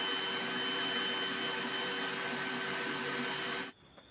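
A DCA ADJZ03-13 cordless hammer drill running in gear 1, a steady high motor whine with a constant tone, close and continuous until it cuts off abruptly near the end, no voices.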